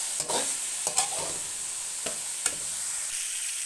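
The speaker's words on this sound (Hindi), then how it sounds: "इसको हम 2 मिनट के लिए दाल को भूनेंगे इस ऑयल के अंदर" Mash lentils frying in oil make a soft, steady sizzle, broken by several sharp scrapes and clicks of a spoon stirring against the pot. No voices are heard.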